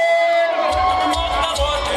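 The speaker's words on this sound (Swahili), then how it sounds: "Makofi mengi na vigelegele." A crowd at an evening gathering of people from Mara Region bursts into applause and cheering, with clapping entering after a moment and high trilling ululation carrying over it, close and lively.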